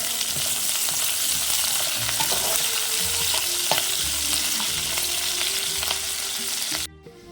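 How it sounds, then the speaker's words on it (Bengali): Pomfret fish and garlic fry in a pan with a continuous close sizzle, broken by scraping stirs and clatters, before the sound drops away sharply near the end. "মাছগুলো ভেজে রসুনটা একসাথেই দিয়ে দিয়েছি একটু ভেজে নেবে"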